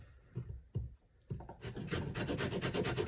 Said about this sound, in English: now we're going to add some of the lemon zest from this lemon